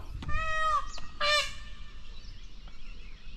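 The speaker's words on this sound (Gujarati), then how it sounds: "સંભળાય છે ને મોર બોલ્યા" A peacock calls twice near old stepwells on Sana hill: loud, nasal, wailing cries, one long and one shorter a moment later, ringing out over a quiet outdoor background.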